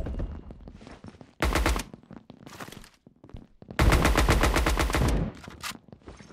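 Video game shotgun gunfire in a team shooter match: two loud, dense bursts of blasts, one brief and one longer, separated by quieter stretches of background game noise.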